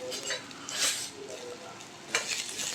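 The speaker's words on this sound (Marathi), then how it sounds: "मी याच्यामध्ये कांदा मिरची फोडणीला घातलेली आहे आणि छानपैकी परतून घ्यायचं आहे" Onion and chili sizzle steadily in hot oil up close, with a couple of louder scraping stirs breaking through the frying hiss.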